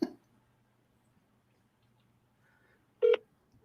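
Telephone dialing while placing a call: a short tone at the start, a long near-silent gap, then one brief, clear keypad beep near the end, faint and close.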